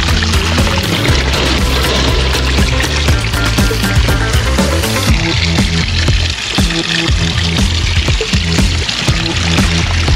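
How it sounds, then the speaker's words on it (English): A small babbling brook spills over a bed of little rocks in a garden, a steady, loud, close rush of trickling and splashing water that carries on without pause. "Great little babbly brook waterfall."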